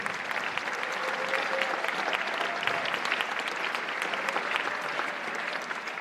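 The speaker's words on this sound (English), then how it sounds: "give them a round of applause" Sustained, steady applause from a concert audience at a holiday pops event for a chorale, dense clapping filling the whole stretch at even loudness.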